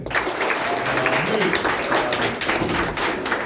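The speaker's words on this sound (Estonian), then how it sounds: "võime teha neile aplausi" Applause for a ninth-grade class team at a school mock-election press conference, a steady wash of clapping from a room of people lasting throughout, with some voices mixed in.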